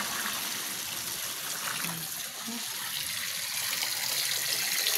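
Tap water runs steadily into a sink while drinking glasses are washed, a constant close rush with faint clinks under it.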